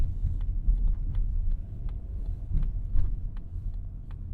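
Inside a 2024 Mazda CX-50 rolling over broken, rough pavement: steady low road rumble with scattered soft thumps and light rattles, cabin-close, no talk.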